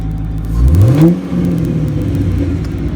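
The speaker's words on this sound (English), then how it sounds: "listen to the sound of that V8" A 2005 Cadillac CTS-V V8 engine cranks, catches and revs up loudly, then settles into a deep, steady rumbling idle close by.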